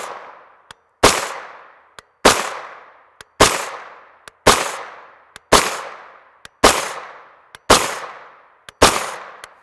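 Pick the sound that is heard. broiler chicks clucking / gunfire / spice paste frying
gunfire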